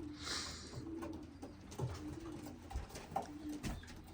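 Racing pigeons cooing in a loft, soft repeated low coos close by, with light rustling and background noise and no talk.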